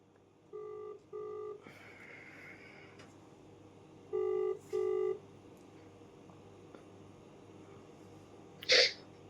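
A phone dials out on a video call, giving two pairs of short steady ringback tones a few seconds apart, followed by a sharp higher chirp as the call connects, with nobody talking.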